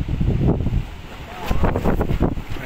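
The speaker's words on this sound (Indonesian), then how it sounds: "Anginnya gede, beliung." Strong tornado wind roars in Sumedang, Indonesia, a steady loud rush buffeting the microphone throughout, with a person speaking over it.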